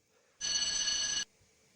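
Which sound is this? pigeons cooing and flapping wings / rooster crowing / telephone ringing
telephone ringing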